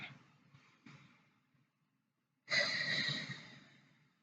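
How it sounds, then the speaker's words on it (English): A person breathes deeply and slowly, close and soft: a quieter inhale fades into a pause, then a long, fuller breath pushes out and tapers away. "Take a deep breath in and relax your shoulders."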